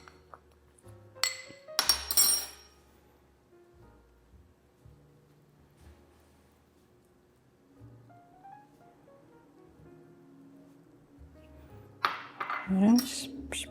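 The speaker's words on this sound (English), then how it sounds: "I'm just going to stir it together." A spoon scrapes and clinks against a bowl while almond flour and nutritional yeast are stirred together for a plant-based tuna casserole topping, in short bursts at the start and end with quiet kitchen sounds between.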